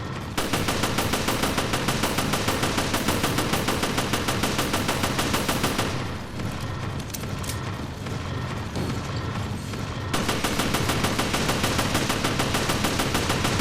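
Relentless automatic gunfire in Resident Evil Revelations Raid Mode, loud and nearly continuous, with a brief lull in the middle before the rapid firing resumes.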